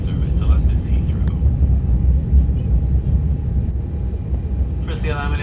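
Steady low cabin roar of a British Airways Airbus A350-1000 in flight from Madrid to London Heathrow, a constant engine and airflow rumble running continuously with a brief chime-like tone near the end.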